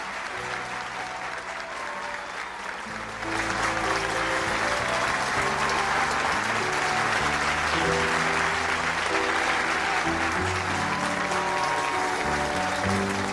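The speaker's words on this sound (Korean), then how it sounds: "큰 박수로 한학자 총재님께 감사의 박수를 올려주시면 좋겠습니다" Large audience at a Korean religious rally for Hope Forward gives sustained applause, a dense steady wash of clapping that swells after a softer opening with music underneath and holds loud throughout.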